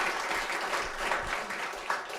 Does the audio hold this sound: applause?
yes